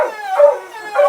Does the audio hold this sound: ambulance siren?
no